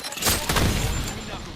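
Dense video game gunfire crackles in rapid bursts, loud and continuous, with echoing shots layered over a busy battle mix.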